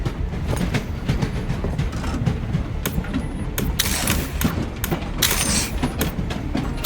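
A train rolling along in the game Voidtrain, a continuous rumbling rail clatter with rhythmic clicks and sharp bright bursts, loud and close, without any speech.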